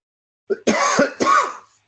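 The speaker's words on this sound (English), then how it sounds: "But if I cough or make weird noises, that's why." A short, close cough in two or three rough bursts, throaty and isolated against silence.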